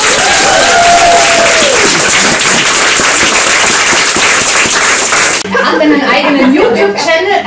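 Live audience at a German comedy slam stage show breaking into loud, sustained clapping and cheering, dense and close, with a brief shout and a change in the crowd sound near the end.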